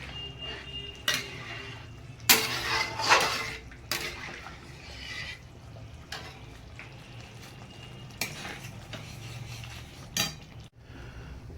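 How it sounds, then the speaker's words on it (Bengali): A spoon stirs Gobindobhog rice and moong dal in a pot, with clinks and scrapes against the metal over a soft bubbling, wet cooking bed, close and uneven with no talking. "একটু নেড়ে নেবো"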